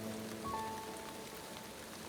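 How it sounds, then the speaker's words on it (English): Rain falls steadily outdoors as a soft, even hiss of drops, with a faint thin tone drifting briefly over it. No one speaks. "Why are we sitting in the rain?"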